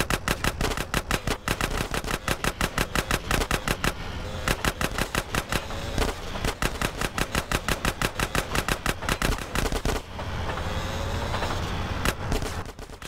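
Rapid automatic gunfire from the video game GTA San Andreas fires in long, evenly spaced bursts of sharp shots, loud and close, with a short pause partway through before the firing resumes.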